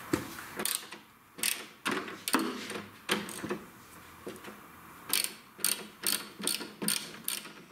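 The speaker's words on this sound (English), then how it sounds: "Now let's take off the 13mm nuts off." Ratchet wrench loosens the 13mm nuts on a Volkswagen GTI strut, a close run of sharp clicking bursts in uneven groups with short pauses between them. No voices are heard.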